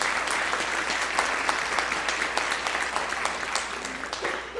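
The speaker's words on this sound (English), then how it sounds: "One more round of applause for their solfege." An audience gives a sustained round of applause after a student solfege performance, a dense crisp clapping that holds steady and then tapers off slightly toward the end.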